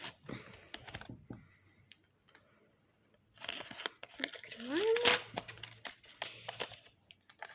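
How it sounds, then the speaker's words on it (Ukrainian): A small paper collectible packet from a zodiac-sign collection torn open by hand, crinkling and ripping sounds in short bursts, close and fairly quiet, with a voice talking at times. "Ось цей пакетик відкриємо першим"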